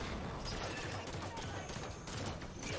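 A distant, steady barrage of enemy gunfire from across a Halo 5 battlefield crackles continuously at low volume, with rapid shots blurring into a dense fusillade.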